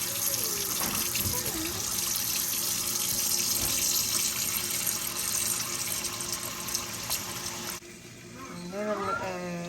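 Tap water runs steadily into a kitchen sink while food is rinsed beneath it, a continuous close splashing gush that fades near the end as a voice talks over it.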